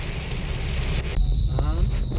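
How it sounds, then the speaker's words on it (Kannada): Heavy rain falls during a car road trip through the Yellapur forest, a dense steady hiss. Midway a sharper high tone and faint voices join it. "ಈಗ ಮತ್ತೆ ಜೋರ್ ಬತ್ ನೋಡ್ರಿ ಮಳಿ ಬಿಡಾಕತ್ತಿಲ್ಲ ಇವತ್ತು ಯಾಕೋ"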